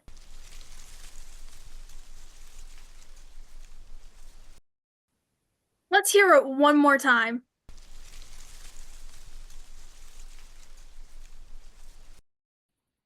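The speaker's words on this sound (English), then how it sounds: "The mystery sound was indeed leaves rustling in the wind." Dry leaves rustle and hiss in gusts of wind, broken by a short spoken line in the middle before the rustling returns.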